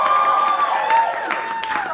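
A comedy club audience in Brooklyn, New York, applauds and cheers loudly through two seconds, with voices mixed into the clapping.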